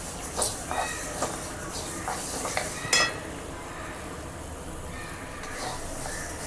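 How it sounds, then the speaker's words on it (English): Sesame seeds roast in a pan with a soft continuous crackling sizzle and a few scraping stirs, fairly close and moderately loud, with a sharper scrape near the middle. "When you roast the til, you will get a sound"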